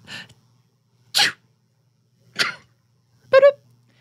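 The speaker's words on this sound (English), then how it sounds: "Oh, I gotta sneeze." Four short, sharp bursts spaced about a second apart, each a quick explosive burst of breath like a sneeze, with a fainter one first and the last one loudest and most voiced.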